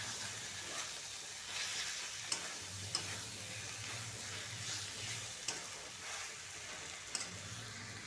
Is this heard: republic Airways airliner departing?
no